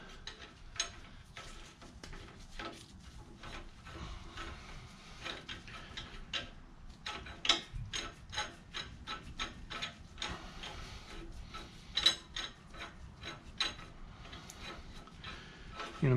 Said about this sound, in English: We're going to go ahead and thread this guy into our puller.